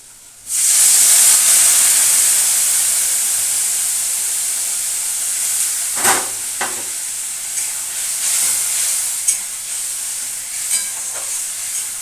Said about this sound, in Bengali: দেখো একটু গরম জল দিয়ে নিলাম মশলাটা পুড়ে যেতে পারে ওর জন্য